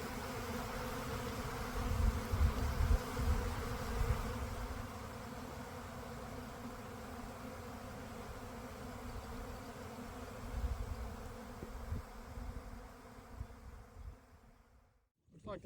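A swarm of honeybees around a newly installed hive on a farm, giving a steady, dense buzzing drone that fills the air throughout, close and continuous, with a few louder swells and a faint voice at times.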